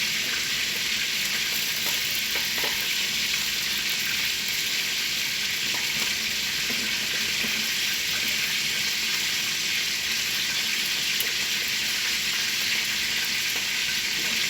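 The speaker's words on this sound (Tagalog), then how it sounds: "Habang nakaprito yung chicken, ilagay ko na itong mga gulay" Chicken and vegetables fry in a pan with a loud, steady, close sizzle that runs unbroken throughout, joined by faint stirring clatter and no voices.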